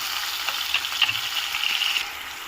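Sliced onions and green chillies fry in oil in a pan, giving a steady close sizzle with faint crackles and an occasional light stir, easing off near the end.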